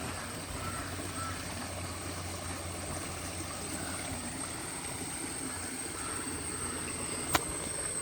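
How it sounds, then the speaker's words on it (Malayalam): A steady, broadband rush of water pours from a waterfall in a rainy forest setting. The roar holds constant throughout, moderately distant, with no voices. "നമ്മൾ വെള്ളച്ചാട്ടം കണ്ടുകൊണ്ടിരുന്നപ്പോഴാണേ"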